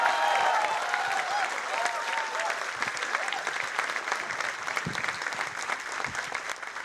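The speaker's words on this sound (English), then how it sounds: "let's have a huge round of applause for the actors" A theatre audience at a student drama production applauds the actors, with steady dense clapping sustained throughout at even loudness, a few voices mixed in.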